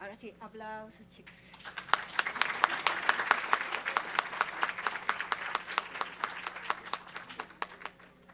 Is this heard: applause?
yes